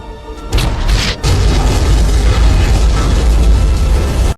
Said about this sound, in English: Simon shot and detonated a nearby barrel of explosives.